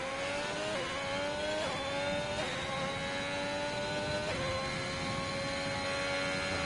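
A Ferrari Formula 1 car in a racing game at the Portugal track, its high engine whine holding steady with several quick gear-shift dips as it runs on, moderately loud and alone.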